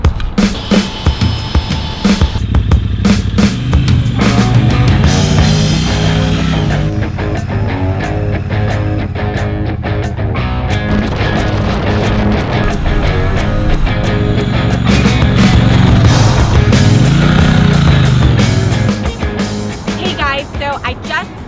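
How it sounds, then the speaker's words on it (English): A 2022 Triumph Bonneville Bobber 1200 cruising, its engine rumbling continuously and loudly for the whole stretch, with revs rising and falling as it shifts and accelerates, mixed with wind noise. "Let's hop on the bike. We're gonna cruise around the area."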